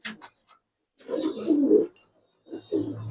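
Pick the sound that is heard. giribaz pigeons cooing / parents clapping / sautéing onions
giribaz pigeons cooing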